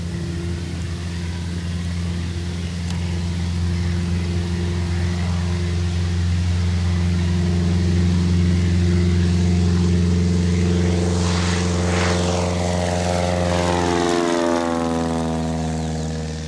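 A propeller airplane taking off, its steady droning engine building to a loud roar, then sweeping past with a falling pitch as it climbs away, no voices.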